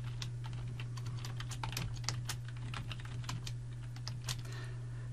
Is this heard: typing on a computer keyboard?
yes